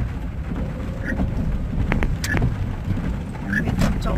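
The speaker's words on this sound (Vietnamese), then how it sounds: "Trời mưa này mà đi bộ chắc chết quá." Rain falls outdoors in a steady, close hiss of drops, with a few brief clicks and faint background sounds mixed in throughout.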